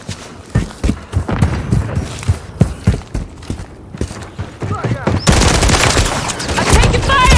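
Rapid gunfire crackles through a Call of Duty Modern Warfare III firefight, sharp repeated shots in dense bursts that swell into a loud, continuous barrage near the end, with shouted voices mixed in.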